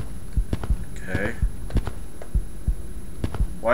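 Heartbeat in a hospital level of the video game Dark Domination 2, a deep, regular thumping pulse repeating through the clip with a low hum, while someone talks over it.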